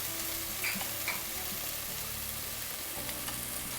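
Shrimp frying in a pan give off a soft, continuous sizzle, faint and even, with a few light stirring taps near the start and a low steady hum underneath.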